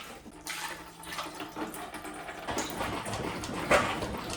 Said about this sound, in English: Yeah, that's some pretty dirty water coming out of there.